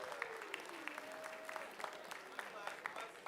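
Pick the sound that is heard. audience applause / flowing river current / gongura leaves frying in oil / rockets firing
audience applause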